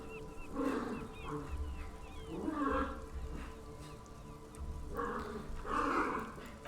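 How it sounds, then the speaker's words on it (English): Puppies play-fighting make bursts of rough growling and snarling yips, rising and falling in about four clusters, fairly close, with quiet pauses between. "It's play. It sounds like fight, but it's play."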